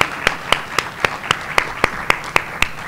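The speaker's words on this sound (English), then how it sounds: "let's have a round of applause for all three of our awardees this year." Audience at a university faculty awards celebration applauds the three awardees, with regular sharp claps repeating steadily throughout, loud and close, no talking over them.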